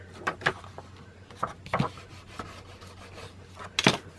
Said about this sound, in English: get our bone folder and burnish those sides down good